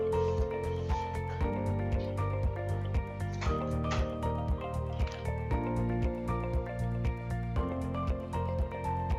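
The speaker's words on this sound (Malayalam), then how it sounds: "ഇനി ഇതിലേക്ക് 2 തുള്ളി പിസ്ത മിൽക്ക് മിക്സ് ചേർത്ത് ബീറ്റ് ചെയ്തെടുക്കാം" Whipped cream being beaten with two drops of pistachio milk mix added, a steady close whirring with soft wet squishing that runs without pause, with no talking.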